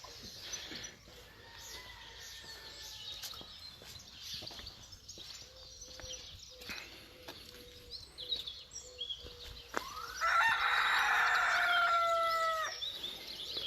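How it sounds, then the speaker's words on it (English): Chickens in a tropical house enclosure, scattered soft clucks and calls at moderate distance, then a loud rooster crow rising out near the end amid other bird chatter. "There's our chickens."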